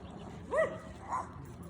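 Small dog on a walk giving two short, high yips about half a second apart, moderately distant, over faint outdoor background.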